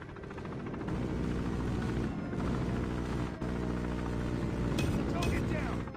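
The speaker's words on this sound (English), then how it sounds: "Deployed chopper gunner." Chopper gunner helicopter killstreak in Call of Duty Mobile, a steady loud rotor-and-engine roar with bursts of gunfire and explosions layered over it, continuous throughout, with game voice callouts faintly mixed in.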